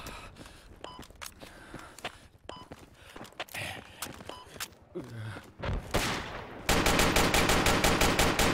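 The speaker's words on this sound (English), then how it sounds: "I hear a bolt-action rifle shooting." Gunfire in the military shooter Project Reality on the Karbala map: scattered single rifle shots crack through the first half, then a loud, rapid automatic burst of fire takes over near the end.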